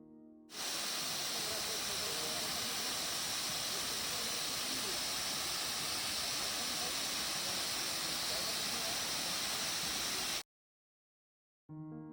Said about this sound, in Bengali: পাহাড়ি পথে রাস্তার ধারে নেমে এসেছে এক ঝর্ণা যার আওয়াজ ভীষণ মিষ্টি